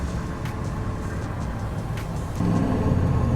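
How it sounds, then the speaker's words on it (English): A turbocharged 1978 Chevrolet Camaro engine drones steadily from inside the cabin, the rumble swelling louder about two-thirds through, with faint high hissy whistles above the low roar. "Oh, you hear the turbo?"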